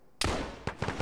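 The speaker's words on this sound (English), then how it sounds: "Is that one of us shooting?" Burst of video game gunfire in an Arma military sim, one long loud volley followed by several shorter close shots in quick succession, with no talk.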